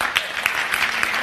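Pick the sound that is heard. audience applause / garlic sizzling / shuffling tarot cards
audience applause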